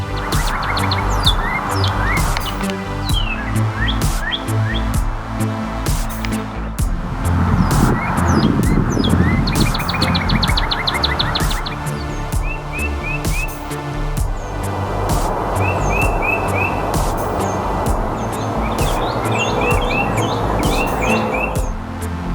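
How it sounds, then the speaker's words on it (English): Eastern bluebird calls ring out in a spring forest as repeated short chirps and warbled phrases, fairly near, over a faint rumble of passing road traffic. "The eastern bluebird."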